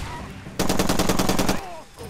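A light machine gun fires in Far Cry 2, a single loud rapid burst of about a second of evenly spaced shots, set between quieter game ambience.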